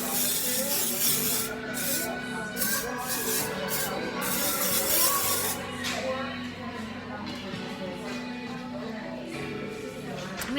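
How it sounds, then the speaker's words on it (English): Orbe Dry Texturizing Spray hisses from an aerosol can onto hair in repeated bursts, close and fairly loud, with rustling of hair being shaken between sprays and a voice speaking at times. "And then spray generously."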